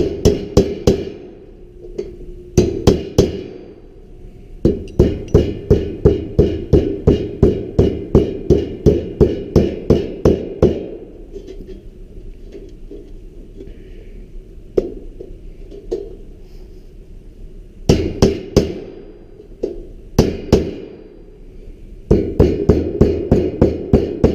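Sharp, ringing hammer taps on sheet metal as the corners of a tee/wye duct fitting's heel and throat are folded over, coming in quick rhythmic bursts with short pauses between runs, close and loud.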